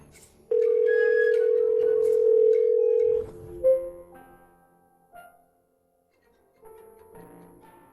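A telephone dial tone plays during a call: one steady, loud, unbroken tone that lasts about three seconds, followed by quieter clicks and faint intermittent sounds.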